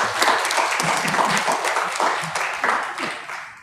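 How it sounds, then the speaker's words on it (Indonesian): Applause from the audience at a Lions Club Jakarta Indo Prima handover ceremony. Steady clapping fills the room for a few seconds, and voices murmur underneath it. "Beri tepuk tangan buat Lion Edianto"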